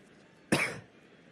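A single short, sharp cough from a baseball game commentator, close to the microphone and over quickly against a quiet background.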